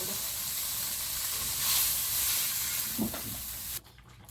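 Fish roe frying lightly in hot oil in a pan, a steady close sizzle that swells slightly midway, then drops away abruptly near the end.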